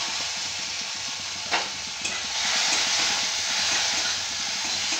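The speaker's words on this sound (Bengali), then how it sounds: "এটা একটু ভেজে নেব।" Chopped tomato hitting hot oil with turmeric in a pan for pepper tarkari, a loud steady sizzle with a couple of sharp bursts and stirring scrapes, close up, no talking.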